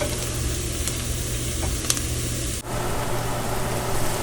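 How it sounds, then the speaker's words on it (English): Garlic sizzling in hot oil in a pan, a dense, steady crackle with faint stirring clicks and a brief dip partway through. "So the garlic definitely cooked way more than I expected"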